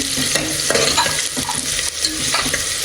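Ingredients for mushroom white pulao are roasted and stirred in a hot pan, producing a loud, continuous sizzle with repeated scraping strokes of a spoon and no voices.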